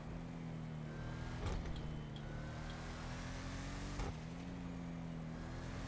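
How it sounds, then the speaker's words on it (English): A steady supercharged engine whine from a Bravado Gauntlet Classic muscle car in GTA 5 Online, a constant idling drone with a faint high whine and two brief knocks or blips. "It sounds like an actual supercharger."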